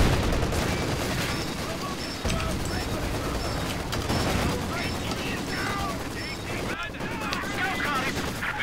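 Automatic machine-gun fire and gunshots crackle through a World War II-style video game battle over a base, with dense, sustained bursts mixed among other combat noises and game chatter.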